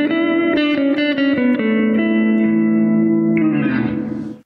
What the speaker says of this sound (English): We've got reverb.